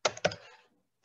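Two sharp keystroke clusters of typing on a computer keyboard as a command is entered, close and fairly quiet, followed by near silence and one faint click at the end.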